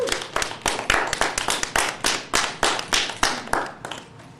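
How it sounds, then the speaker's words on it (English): An audience claps at a community gathering marking the Montgomery bus boycott anniversary, giving a round of sharp, dense hand claps that surge in waves and slowly thin out near the end. "Give him a round of applause."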